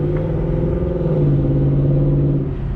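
A Ford F-150 pickup with a 5.0-liter V8 and CORSA Xtreme exhaust idles and rumbles steadily, a deep, loud, even drone with a faint rising tone partway through.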